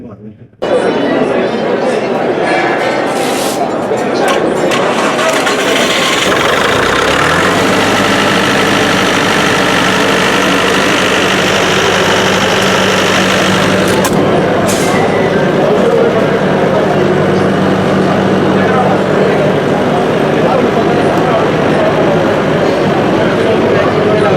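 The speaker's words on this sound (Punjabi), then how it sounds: "ਆਪ ਜੀ ਨੂੰ ਮੈਂ ਜਨਰੇਟਰ ਸਟਾਰਟ ਕਰਕੇ ਵੀ ਦਿਖਾ ਸਕਦਾ" A new Eicher diesel generator starts and then keeps running, a loud, steady engine drone with low knocking rumble that continues unbroken to the end.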